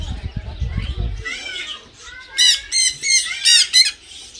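Parrots in an aviary at the Nicosia zoo give a burst of harsh, loud squawks one after another near the end, after a short stretch of low rustling and a brief voice.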